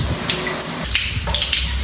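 Water from a home shower runs steadily and loudly, a continuous splashing hiss with no talking.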